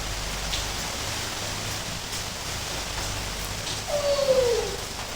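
Rain falls steadily in a village during a cooking session, heard as a soft continuous wash with a faint tonal sound near the end.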